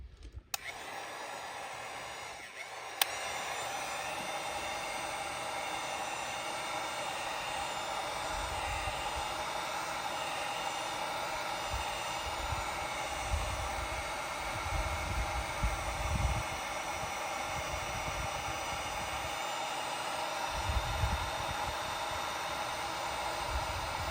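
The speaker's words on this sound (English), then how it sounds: "It's just a heat gun." A heat gun blows steadily during a wiring repair, a continuous broad airy whoosh with a faint fan whine. It starts with a click, then holds at a fairly even level close by, with slight low rumbles and no talking.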